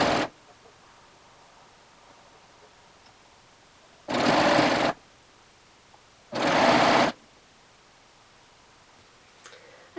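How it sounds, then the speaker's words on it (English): A sewing machine stitches binding around the edge of a crossback workout tank, running in three distinct bursts of rapid, even mechanical whirring separated by quiet gaps, close and clear. "I'm just going to stitch around all the way again, wrapping that binding around to the back side to catch it"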